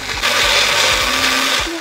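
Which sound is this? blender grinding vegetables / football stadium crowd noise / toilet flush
blender grinding vegetables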